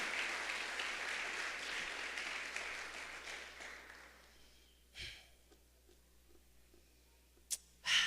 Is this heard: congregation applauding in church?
yes